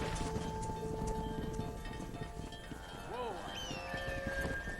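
In the Red Dead Redemption video game, horse hooves clop steadily while a cattle herd moves along, with a single drawn-out low from a cow rising midway over the trampling.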